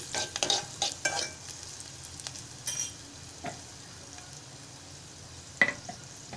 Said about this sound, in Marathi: आता मी मालवणी मसाला घालत आहे मिश्रण छान एकजीव करून घेऊया